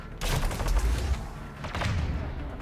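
Gunfire in a sci-fi shooter video game: a dense burst of rapid shots with heavy low thuds for about a second and a half, a brief lull, then another sustained volley, loud and close.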